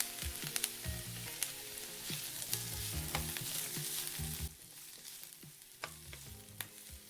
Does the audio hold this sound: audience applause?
no